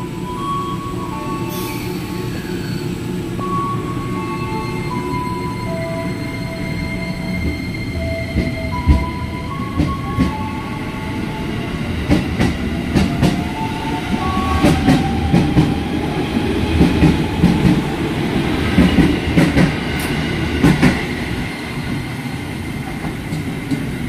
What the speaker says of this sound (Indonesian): semboyan 5, kereta diberangkatkan kembali menuju ke arah Bogor